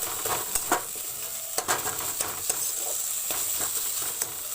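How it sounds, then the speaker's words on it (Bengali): Boiled bhetki fish being mashed and stirred in a pan, a steady close sizzle with irregular soft scraping strokes and a few sharper clicks of the utensil against the pan. "এইভাবে আমি ঘেটে দেবো"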